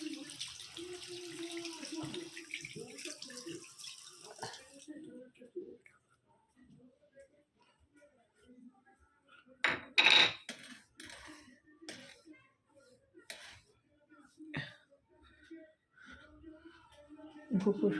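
Plates are washed under running water at a kitchen sink, with splashing bursts, clinks of dishes and tap flow, while someone talks intermittently nearby.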